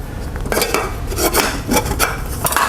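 Metal pots of a Storm Cooker Xtra Dhaulagiri camping cookware set clank and scrape against each other as they are fitted together, a series of close, bright metallic knocks and rubs over about three seconds.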